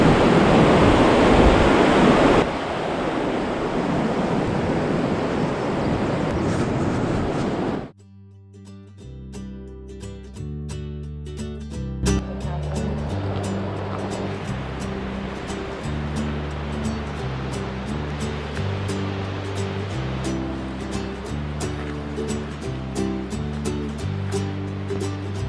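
Steady rushing water from a river near a bridge fills the opening stretch, loud and continuous, then cuts away to melodic music that carries through the rest.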